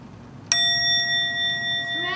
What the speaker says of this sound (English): when I ring the bell, the story will start